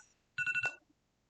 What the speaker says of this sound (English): Sorry for my phone, that keeps going off.